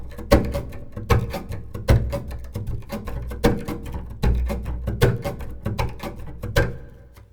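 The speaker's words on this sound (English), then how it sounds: "I'm going to take away the fact that I'm changing which strings I'm playing on." A double bass plays rhythmic chop strokes kept on the high two strings, a steady pattern of percussive, scratchy bow hits with low thumps, close and alone, fading at the end.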